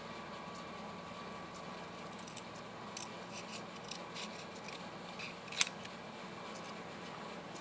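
Scissors making a tight cut around a piece of card paper for a handmade reverse Z-fold card, a few soft close snips over faint room hum with one sharper snip near the end, no talking.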